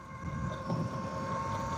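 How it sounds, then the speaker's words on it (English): Steady wind rushes and buffets against the microphone while riding a 72-volt electric motorcycle at full throttle, with a low drone running underneath the whole time. "Oh, it's so windy."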